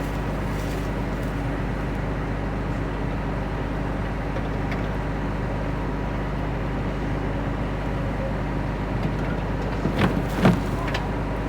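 A combine harvester's header reel spins in a wheat field, giving a steady, loud mechanical drone with low rumble throughout and a few brief clanks near the end.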